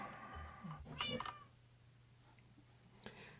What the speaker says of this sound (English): That was like the most realistic meow ever.